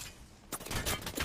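Gunfire in the video game Apex Legends, a quiet opening followed by a rapid burst of several sharp shots, fairly faint in the mix.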